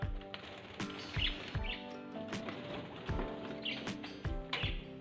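Pet parrots in a cage chirp in short, repeated bursts, mixed with sharp knocks and thumps, close by in a house.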